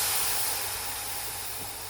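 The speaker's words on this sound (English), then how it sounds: "Pour in some boiling water." A steady, fairly faint hiss of boiling water poured into a hot metal tin in an oven at about 250°C, slowly fading over two seconds, with no other sounds.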